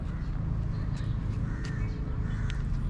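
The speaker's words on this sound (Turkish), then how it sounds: "Böyle değişik bir kuş gördüm." A bird calls a few times in short, sharp bursts over a steady outdoor rumble of traffic and background noise in Sharm El Sheikh.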